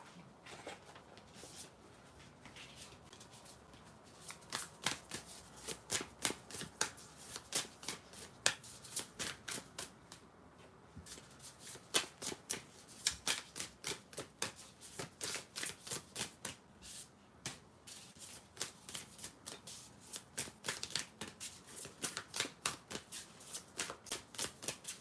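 Tarot cards shuffled steadily by hand for a reading, a dense run of crisp riffling flicks and soft slaps close by, pausing briefly around mid-clip before continuing at the same pace, with no talking.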